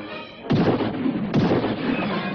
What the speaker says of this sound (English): Those were shots.